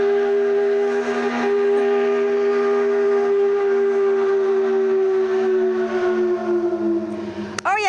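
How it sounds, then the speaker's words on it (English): A noon whistle sounds at 12 o'clock, giving one loud, steady, sustained tone that holds for several seconds and then cuts off. "Hears the whistle and knows it's 12 o'clock when it's 12 o'clock."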